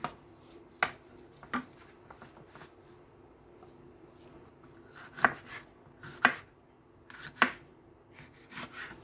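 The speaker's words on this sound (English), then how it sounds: "We cut it also in cubes." A knife chopping chicken into cubes on a cutting board, a few sharp, close knocks spaced irregularly with quieter scrapes and rustles between them, no talk.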